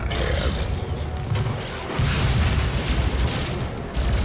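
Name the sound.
stun bomb explosion in the video game DOOM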